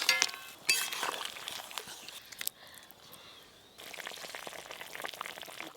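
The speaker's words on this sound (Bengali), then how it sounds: "এবার ভেজে রাখা কাতলা মাছগুলো দিয়ে দেবো।" Fried catla fish pieces go into a bubbling cumin curry, making a sharp clink at the start, then sizzling and bubbling with light knocks. The sound drops to a quieter stretch midway before the simmering resumes.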